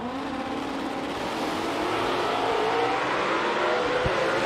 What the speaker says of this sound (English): Beautiful launch out of Bill's car.